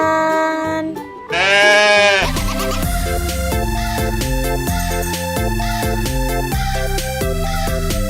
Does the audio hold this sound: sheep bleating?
yes